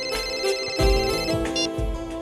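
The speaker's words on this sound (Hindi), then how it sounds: "तुम्हारा फोन रिंग हो रहा है।" A ringtone plays: a steady electronic melody with sustained tones and repeating low pulses, fairly loud over background music.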